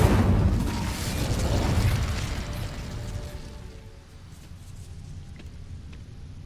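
A fire spell in Hogwarts Legacy bursts into flame on dry vines, a loud whooshing rush that crackles and fades into a lower burning hiss over several seconds.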